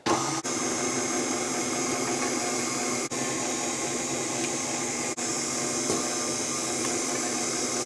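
Electric hand mixer beating coconut cookie dough, a steady loud motor whir running almost unbroken, with a few brief dips where the beaters pause or shift in the bowl.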